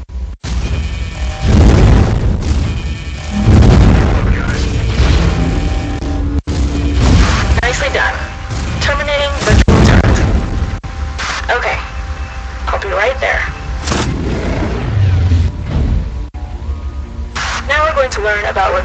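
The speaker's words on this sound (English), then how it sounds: "Use your shield item to block the turret's rockets." Rocket turret fire in the mech video game Hawken brings repeated heavy booms and crashes, mixed with electronic game effects and a synthetic voice talking between the blasts.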